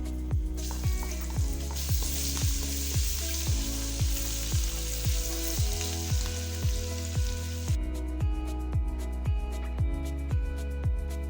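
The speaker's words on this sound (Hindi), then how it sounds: "लहसुन और अदरक का पेस्ट डालते" Garlic ginger paste sizzles steadily in hot ghee for mutton karahi while a spoon stirs and scrapes the pan in a regular rhythm, close up, with no talking.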